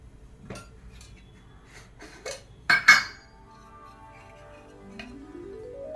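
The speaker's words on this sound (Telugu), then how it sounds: "ప్యాన్ పెట్టుకొని" A pan is set on a stove with a couple of metallic clanks and a ringing clink, preceded by lighter taps in a quiet kitchen.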